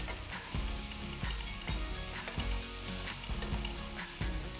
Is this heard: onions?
yes